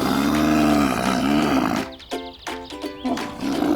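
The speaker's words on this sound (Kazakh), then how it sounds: "түйе" A camel lets out a loud, drawn-out guttural bellow that wavers for almost two seconds, then breaks into a series of short, choppy grunting pulses close by.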